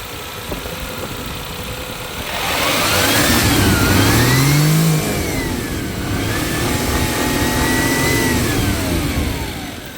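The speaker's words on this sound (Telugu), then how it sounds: "బండి ఇంజన్ స్టార్ట్ చేసి కూడా చూపిస్తాను మీకు. బండి ఇంజన్ సౌండ్ వినొచ్చు మీరు." A 2004 Maruti Suzuki 800 engine turns over and rises briefly in revs, then settles into a steady, smooth idle that hums on to the end.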